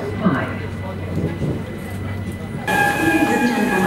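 A London Underground carriage rumbles and rattles along the track, a steady loud roar with clacks, then a sudden shift in tone as high whining tones appear; a voice speaks over it.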